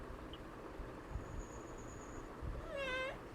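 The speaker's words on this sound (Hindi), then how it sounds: "ये बिलौटा है, एक बिलौटा।" A tomcat meows once near the end, a drawn-out falling cry heard clearly over a quiet room hum, with a faint high whine and soft background noise before it.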